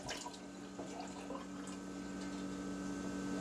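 Water runs steadily over a well-seasoned cast iron pan being rinsed at a sink, a continuous close splashing flow with faint droplet patter and no talking.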